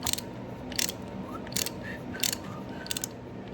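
A T40 Torx bolt is unscrewed from the primary cover of a 1998 Harley-Davidson Dyna Super Glide, giving close, repeated ratcheting clicks in short bursts with brief pauses between them.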